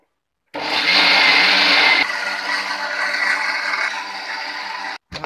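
An electric mixer grinder whirs loudly as it grinds a batter of rice, fenugreek and salt, then drops to a steadier lower hum and cuts off abruptly, with no talking.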